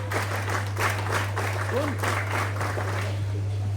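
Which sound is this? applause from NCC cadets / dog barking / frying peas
applause from NCC cadets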